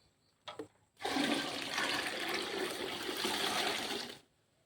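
After a couple of brief knocks, a steady rush of water pours into a rice mixture for about three seconds, then stops abruptly.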